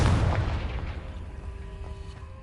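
A Confringo fire spell blasts in the video game Hogwarts Legacy, a loud booming burst at the start that rolls and fades into a lingering low rumble, with a faint tonal hum underneath.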